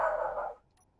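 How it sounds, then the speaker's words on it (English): A single drawn-out dog bark or howl, fairly close, trailing off after about half a second into near silence. "Dog does not shut up"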